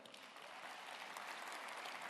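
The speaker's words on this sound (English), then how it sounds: "a round of applause for Marcelo for coming all the way" An audience at a startup event with a SoftBank and WeWork executive claps steadily in a dense, even round of applause that holds at a constant level throughout.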